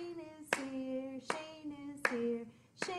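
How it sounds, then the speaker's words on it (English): Four sharp hand claps spaced evenly at a storytime singalong, each a crisp close smack over a faint sustained sung tone, no other talk. "Let's all clap, 'cause Shane is here today"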